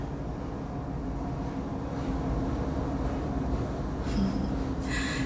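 A train rumbles by outside, a continuous low, steady roll that fills the background throughout, with a few brief higher screeches or hisses near the end.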